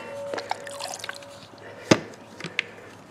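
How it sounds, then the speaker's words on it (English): Jet Dry surfactant is poured into water in a gold-prospecting setup with black sand and gravel, giving scattered drips and small splashes over a faint hum, with one sharper plop near the middle. "we will put some surfactant in this water"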